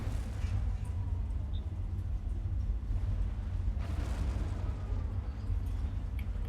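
Game explosions rumble through a bombing run in the strategy game Planetary Annihilation, a steady low booming bed with a sharper burst near four seconds, no talk over it.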